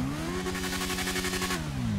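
A custom drag motorcycle engine in GTA 5 hums at a high, steady rev with a pulsing rattle. Near the end it drops to a lower pitch. The engine is close and continuous, with no talking.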